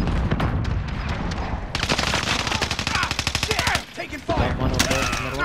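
Cluster strike rounds slamming down in a video game, a fast rattling barrage of impacts that runs for several seconds, briefly drops out and then resumes, loud and dense throughout.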